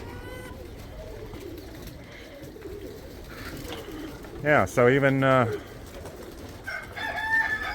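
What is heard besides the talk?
racing pigeons cooing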